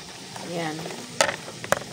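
Food sizzles and fries in a home cooking pan, with a soft steady crackle broken by a couple of sharp clatters, heard close and fairly quiet.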